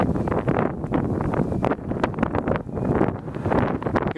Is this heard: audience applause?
no